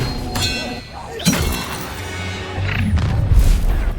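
A disarming spell effect from Hogwarts Legacy bursts out in a mid-battle video game duel, a bright impact followed by crashing, booming combat effects and background game audio.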